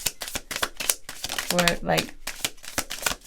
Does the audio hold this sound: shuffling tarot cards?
yes